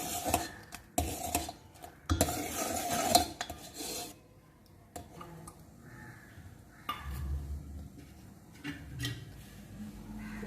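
Kulfi milk mixture with saffron being stirred in a pan, a close scraping and rubbing of utensil against metal in bursts, louder at first and then softer, with a few clinks and quiet pauses between strokes.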